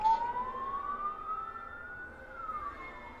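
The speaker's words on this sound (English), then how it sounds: "3 or 4 police cars just passed by" Several police car sirens pass by in a steady wailing sweep that rises and then falls over a few seconds, heard from indoors at moderate distance with no talking.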